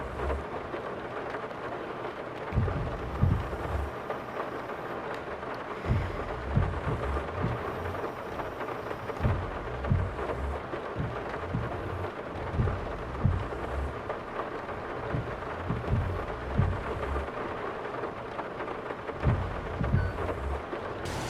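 Steady rain hisses throughout a Farming Simulator 22 thunderstorm, with low rumbles of thunder rolling in repeatedly from about two and a half seconds on, alone with no voices.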